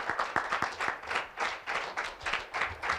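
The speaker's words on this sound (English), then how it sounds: "let's give our presenter a big round of applause" Audience members clap for a presenter at a lecture event, a modest, fairly rhythmic round of applause with distinct individual claps at moderate volume, no voices over it.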